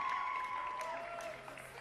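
A figure skating crowd at the Sheffield 2022 Grand Prix applauds a skater's return, a soft, distant patter of clapping that thins toward the end, with a commentator talking over it.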